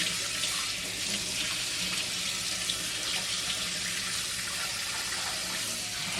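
A kitchen tap runs steadily at close range as a cooking pot is rinsed under it, with a continuous hiss and light splashing and no voices.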